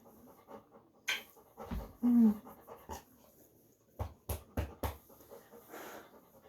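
A small dog pants in short quick bursts close by, with soft snuffles and a brief whimper in between quiet pauses.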